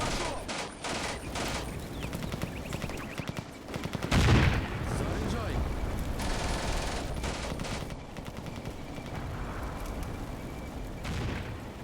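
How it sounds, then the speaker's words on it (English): Sustained machine gun fire from Combat Mission, a World War II battle at Treuenbrietzen in 1945, crackles in long overlapping bursts, with a heavier boom around four seconds and battle noise continuing beneath. "Of course the Germans have machine guns."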